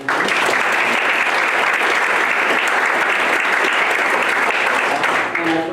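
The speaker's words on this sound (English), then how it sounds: "How about a round of applause for them?" Audience applause fills a workshop hall, steady and dense clapping from a crowd throughout, loud and sustained before easing slightly at the end.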